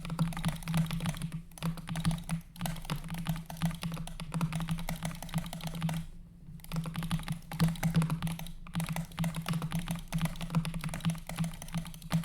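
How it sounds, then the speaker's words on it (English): Someone types quickly and continuously on a computer keyboard during a Fortnite free-build session, with dense clicking keystrokes, a few brief pauses and a steady low hum underneath. "Which keyboard sounds better?"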